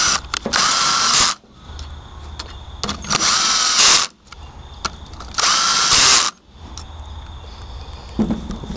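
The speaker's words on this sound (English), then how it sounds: "makes it a lot easier having a drill with a socket adapter on it." A power drill with a socket adapter runs in three loud, sustained bursts of about a second each while working on a 4 hp Briggs & Stratton engine, with quieter mechanical clicks and handling noise between them.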